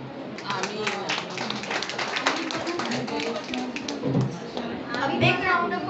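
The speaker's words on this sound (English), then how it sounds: "A big round of applause to Rumana Khan." An audience at an Independence Day live performance claps in a dense, steady patter for a performer, with voices mixed into the applause throughout.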